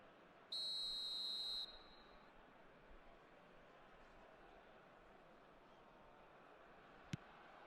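Referee whistle in the eFootball 2026 football video game: one sharp, steady blast lasting about a second over quiet crowd ambience, followed by a faint click.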